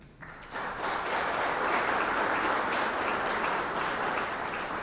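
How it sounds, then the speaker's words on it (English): Warm applause from an audience at an economic development appreciation reception for a former director, a dense steady clapping that swells in after a brief quiet start and holds strong throughout. "Who still gets louder applause than me"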